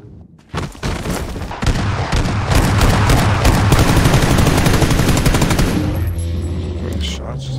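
Gunfire in PUBG on Xbox Series S, with rapid automatic bursts rattling off in a dense, sustained volley that tapers near the end, loud and close.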